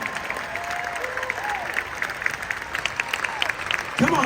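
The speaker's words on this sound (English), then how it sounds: "Keep on clapping like you're going there." Sustained applause from a large audience at a growth conference in Los Angeles, a thick continuous patter of many hands with a person calling out over the top and a louder burst at the close.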